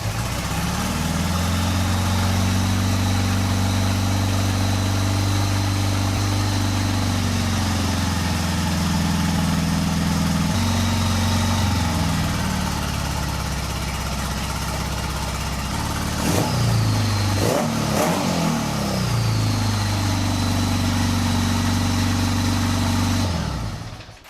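A 1975 Honda Goldwing 1000cc motorcycle engine idles steadily and loudly at close range, dipping as the idle is lowered and then rising in a couple of sharp throttle blips before settling and cutting off.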